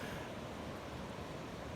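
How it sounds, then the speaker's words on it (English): Winter ocean waves wash onto a beach as a dense, continuous roar of surf, steady and fairly faint with wind-like hiss throughout. "In the ocean, on the beach, in the winter, like I am right now."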